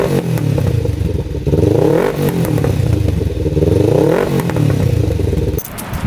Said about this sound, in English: Revs out completely.